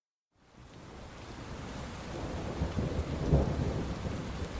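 A thunderstorm with heavy rain rises from silence into a steady, dense downpour, with a low rumble of thunder swelling near the end; no voices.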